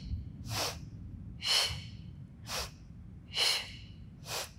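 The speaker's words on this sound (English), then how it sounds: "exhale" Sharp, breathy exhales during a Pilates full-body mat workout, five short puffs at an even pace over a faint low background hum.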